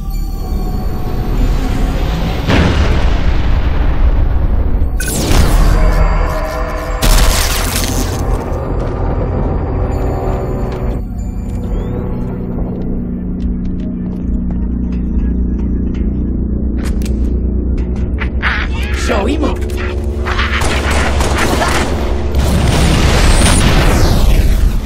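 Heavy artillery shells from a barrage in Halo Reach on the Xbox 360 crash and boom repeatedly, with loud detonations, bursts and rumbling debris in a dense, continuous battle soundscape.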